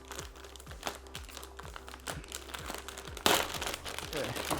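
Plastic packaging around a Gigabyte Z390 Gaming X PC motherboard crinkles in a string of sharp, close crackles, growing louder and denser toward the end.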